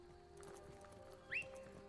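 A horse in the Skyrim video game gives a short whinny over a quiet background of soft game ambience and faint hoof clops.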